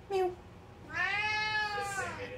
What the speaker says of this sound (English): And then I watch the video, and the little cat goes, beep,